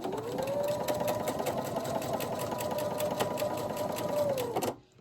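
Sewing machine stitching quilting fabric for a holiday table runner, a steady close motor whir with rapid needle ticking that runs continuously for nearly five seconds and then cuts off.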